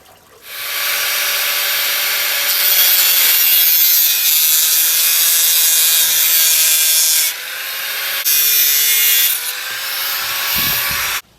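A 100mm pipe being sawn to size as a media guard for an IBC aquaponics grow bed: steady, loud back-and-forth hand-sawing strokes, close and continuous, with brief pauses and no talk.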